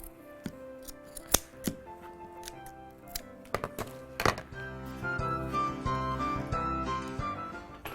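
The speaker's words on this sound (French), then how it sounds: "On va vous découper." Scissors snipping through material for a homemade Christmas craft, a string of close, crisp cuts at an irregular pace with soft background music underneath.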